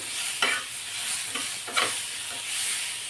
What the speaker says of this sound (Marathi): आता हे आपण अगदी दोन मिनिटासाठी परतून घेऊ